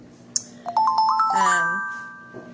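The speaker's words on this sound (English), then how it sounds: "I'm getting notifications on my phone." A phone gives a notification alert, a quick run of bright tonal chimes followed by a sustained ringing tone that slowly fades, heard indoors and close by.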